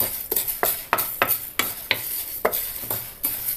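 Green gram dal dry roasting in a pan without oil, stirred with a utensil that scrapes the pan in irregular rhythmic strokes, close and distinct with no talking.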